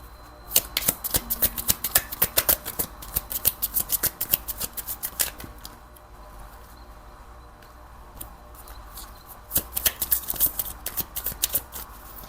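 Tarot cards being shuffled by hand, bursts of quick crisp riffling clicks in two spells with a softer quiet stretch between, close and fairly faint, no talking.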